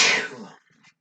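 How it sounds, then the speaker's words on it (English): A single sneeze, loud and close, bursts out at the start and then fades into a few faint breathy trailing sounds, with no speech over it. "I gotta sneeze again."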